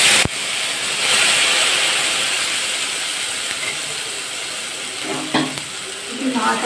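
A spice paste mixed with a little water drops into hot oil for a light rohu fish curry, starting with a sharp splash. A loud, continuous hissing sizzle follows as it is stirred, with a few scraping knocks near the end.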